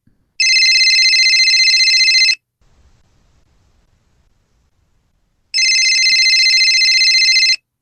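A telephone rings in two long electronic bursts, loud and close, with a quiet gap between them and no talking.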